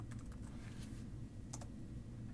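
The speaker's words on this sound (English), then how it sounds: "if we click on here and type standard deviation" Keys clatter on a computer keyboard in a quiet room as someone types a formula name into Excel 2008 on a Mac, a quick run of soft clicks with a couple of brief pauses.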